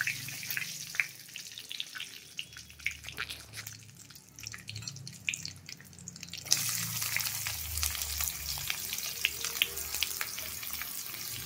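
Chopped onion sizzling in hot oil in a wok after bay leaf and black cumin, with a soft steady crackle that grows louder and denser partway through as the onion goes in.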